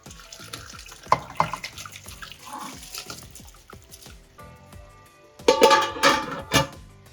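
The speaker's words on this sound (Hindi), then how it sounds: "अब इसके अंदर शामिल कर देंगे आप चावल जो आपने भिगो के रखे हुए थे।" Soaked rice is poured into boiling water: water splashes and gurgles in irregular bursts with clinks of a utensil, swelling into a louder pour near the end.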